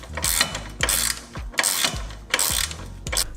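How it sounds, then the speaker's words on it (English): Ratchet fitted with a 14mm socket loosening sway bar bolts on an Acura RSX (DC5) during suspension work: four loud, close bursts of rapid clicking, each followed by a short pause. "For these, you're gonna need a 14mm socket."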